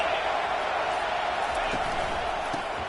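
Stadium crowd roar from an NCAA college football video game, a steady, loud wash of cheering noise that holds throughout with commentary talk over it.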